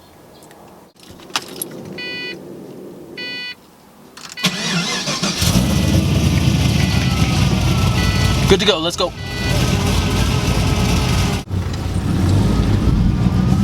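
Pontiac GTO with a supercharged LSA engine starts up and runs with a loud, steady roar that builds and holds through the clip, after a brief jangle of keys, with people talking briefly over it near the start.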